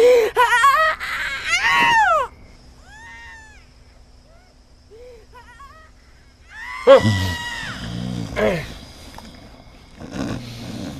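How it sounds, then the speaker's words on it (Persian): A neighbour's baby cries in loud, wavering wails that break off, then return in shorter bursts after a quiet stretch, set in a household scene from a comedy film. "صدا گریه بچه بود"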